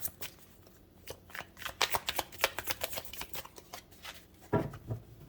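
Tarot cards shuffled by hand in a run of crisp, rapid riffling flicks and soft slaps, close and fairly loud, with a heavier thump near the end and no talking.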